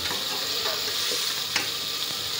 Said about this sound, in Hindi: मसाले को अच्छी तरह भून लिया।